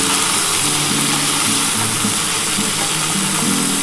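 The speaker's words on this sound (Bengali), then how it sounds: "এই মশলাটা দিয়ে দেবো।" Ground spice paste sizzles loudly in hot oil in a frying pan while cooking shukto, a continuous, close, hissing crackle with faint stirring that stays steady and even from start to finish.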